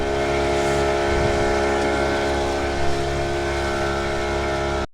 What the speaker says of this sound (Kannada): ಇದು ಒಂದು ಮೋಟರ್ ಬೋಟ್